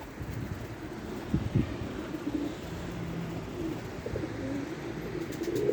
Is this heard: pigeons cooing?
yes